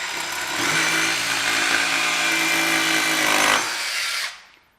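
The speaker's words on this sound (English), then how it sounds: "You just start the" A Kreg jigsaw starts up and cuts wood, its motor rising quickly to a loud, steady high-speed whine that holds for several seconds before stopping abruptly and fading out.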